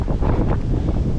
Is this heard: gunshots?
no